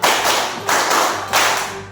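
Schoolchildren in a fourth-grade classroom clap together on cue, three loud group bursts of clapping spaced roughly evenly, close and without talk.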